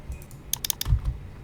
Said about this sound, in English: Just click the Enter key on your keyboard.